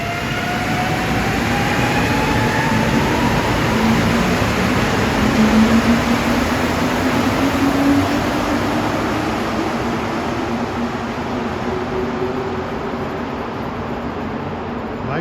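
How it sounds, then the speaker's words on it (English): A Montreal Metro train rumbles and rolls into a station with a broad, steady roar, rising whine tones sliding upward as it approaches and slows. "It's weird to see these trains coming without headlights."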